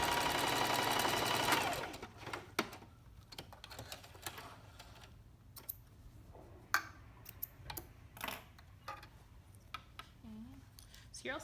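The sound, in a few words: sewing machine stitching along a chalk line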